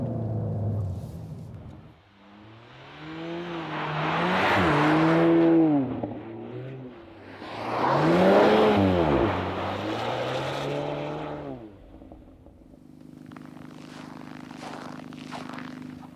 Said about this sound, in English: when we're driving all the way sideways